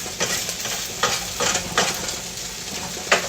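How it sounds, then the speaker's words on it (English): Homemade hash brown potatoes sizzle in a frying pan, a steady crackling hiss broken by several louder bursts of spatter, fairly close and with no voices. "I'm going to turn it down because I hear that it's sizzling a little bit"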